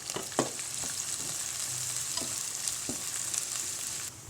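Onions and green chillies sauté in hot oil for South Indian pepper chicken fry, giving a dense, steady sizzle with a few soft stirring scrapes and taps underneath.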